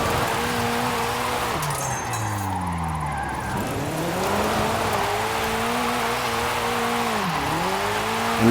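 A KTM X-Bow GT4 race car on an AWD drift tune in a video game drifts with a sustained engine drone that rises and falls with throttle, its tires squealing and skidding steadily throughout, loud and close with no talk.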